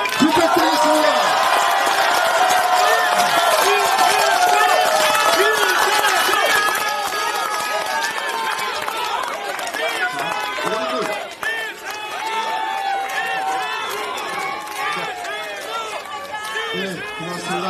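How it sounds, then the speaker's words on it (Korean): Large outdoor crowd at a Gunsan political campaign rally for Lee Jae-myung, dense sustained clapping and cheering throughout, loud and close, with chatter mixed in. "이재명 대표께 다시 한번 뜨거운 박수 부탁드리겠습니다"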